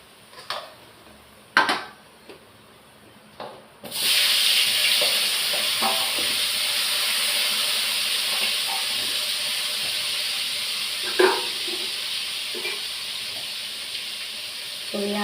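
Cauliflower florets frying in a pan for a lunch dish give a steady close hiss and sizzle after a few sharp clatters at the start, continuing unbroken with occasional small pops.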